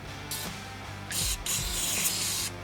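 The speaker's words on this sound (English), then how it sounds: "First hit them with the WD-40," WD-40 aerosol sprayed onto suspension bolts on a Nissan 350Z, two close hissing bursts, a short one and then a longer one, over quiet background.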